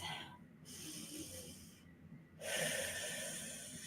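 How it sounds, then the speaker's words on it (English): A deep breath during a relaxation exercise, heard as two close, airy inhales and a long exhale that rush in and out slowly, soft and unhurried. "Take a breath."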